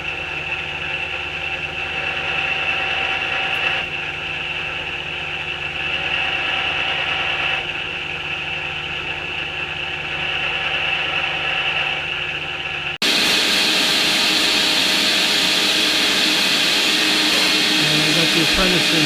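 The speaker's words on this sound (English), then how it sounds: "So drill press is back working, and I'm a happy boy." A drill press runs with a steady motor hum while holes are chamfered against a depth stop, with a louder, harsher, grinding tone in the final seconds.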